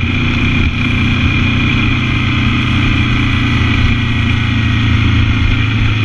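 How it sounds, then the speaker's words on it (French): A KTM 790 Duke motorcycle engine drones loud and steady throughout, heard from on the bike with constant wind noise and no clear rise in pitch. "vous allez pouvoir entendre la première accélération de la moto"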